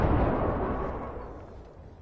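A grenade blast in a battle royale video game, heard as a loud, close boom whose low rumble spreads and slowly decays over about two seconds, with no talk over it.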